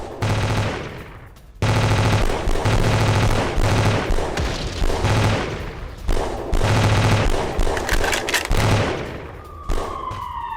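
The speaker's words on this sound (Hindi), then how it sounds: "जहां जंगल में यूक्रेनी सैनिकों पर चारों तरफ से गोलीबारी की गई है" Gunfire in a forest battle between Russian and Ukrainian soldiers, loud sustained automatic bursts and overlapping rapid shots crackling almost without pause, with brief lulls between volleys.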